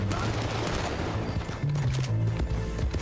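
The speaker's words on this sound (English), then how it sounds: "I love the dual-wield pistols." Dual-wielded pistols in Red Dead Online fire a rapid string of close, overlapping cracks that pile into a loud, continuous volley, with talk mixed in.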